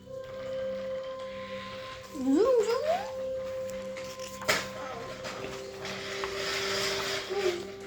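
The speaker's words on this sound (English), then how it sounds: "Why, you're a cat," Alice said. "A Cheshire cat," he replied" A cartoon Cheshire cat vocalizes in a Disney Alice in Wonderland storybook recording, a rising, wavering meow-like glide over soft background music, followed by a sharp hit and lingering musical tones.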